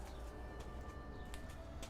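Soft cooing from a bird close by, low and faint, with a steady background hum and a few brief high chirps.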